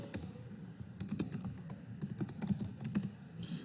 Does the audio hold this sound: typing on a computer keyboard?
yes